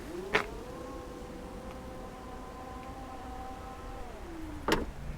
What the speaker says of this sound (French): vous avez le haillon EasyPack, qui est un haillon à assistance électrique